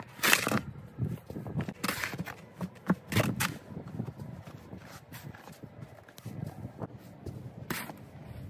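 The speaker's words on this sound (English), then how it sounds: "All I had to do was keep on shoveling" Snow being shoveled by a porch in winter, with repeated scraping and crunching strokes at an uneven pace, some loud close scrapes between softer shuffling sounds and footsteps.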